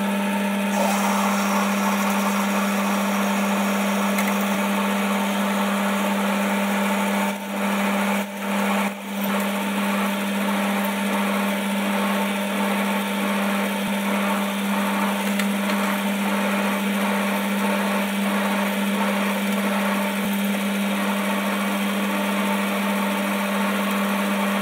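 A lathe bores into a workpiece with a 7mm drill held in the tailstock, a steady whining motor hum that runs continuously, with a brief dip in the middle.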